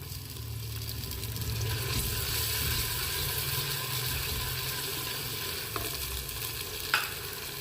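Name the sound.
tomatoes frying in a pan for arvi masala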